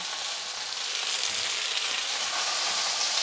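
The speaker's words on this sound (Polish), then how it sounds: "na tej patelni drugiej dolewamy znowu trochę oleju, wrzucamy pieczarki" Mushrooms sizzle steadily in freshly added oil in a second frying pan, a dense, continuous hiss at close range with no voices.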